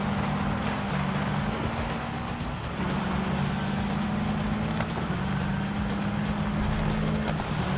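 Car engine in the rally racing video game Gravel, a steady droning rev that holds level, dips briefly as if shifting gear, then climbs and settles again, loud and continuous without talk.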